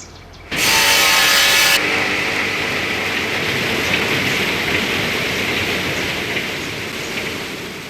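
Timber is cut at a state-of-the-art sawmill in the Russian Far East: after a brief quieter start, a loud, steady grinding and whirring roar kicks in and keeps going, dense and unbroken.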